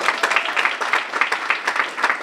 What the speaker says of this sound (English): I think there's a Francisco cheer section over there